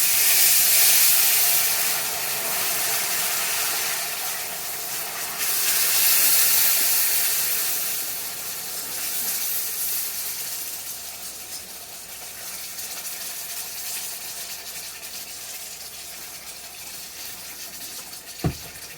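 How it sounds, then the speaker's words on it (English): Broth whisked into gravy in a pan: a steady hissing, splashing wash of liquid with bursts of steam, loud at first then settling into a softer continuous churn, no voices. "And we're going to whisk it in real quick."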